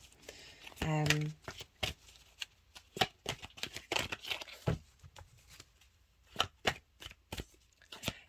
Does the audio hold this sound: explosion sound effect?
no